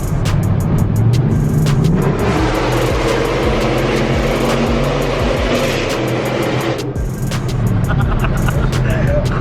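A Chevrolet Silverado with American Racing headers rumbles loudly from inside the cab with the windows up, its deep exhaust drone swelling and easing, while sharp clicks and rattles cut through and people talk over it.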